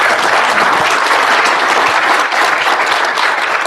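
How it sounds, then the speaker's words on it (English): A lecture audience bursts into sustained applause, dense steady clapping from many hands filling the room at full loudness for the whole stretch. "Round of applause."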